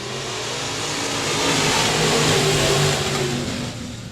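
Race car engines at 67 Speedway of Texarkana, a dense, loud roar of several motors revving and swelling toward the middle before easing off, with no talking.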